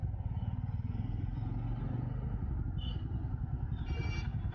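A Bajaj Pulsar F250 motorcycle engine drones steadily while riding, a continuous low rumble with some clatter, captured close and fairly quiet throughout.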